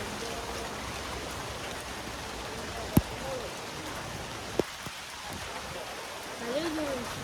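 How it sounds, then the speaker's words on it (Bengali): Rain falling steadily outdoors under a dark cloudy sky, a close, even hiss of drops with a couple of sharp knocks, and faint voices in the background. "বৃষ্টি হচ্ছে ভালো।"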